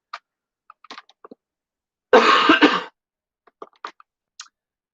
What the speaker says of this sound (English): Lingering cough in the chest.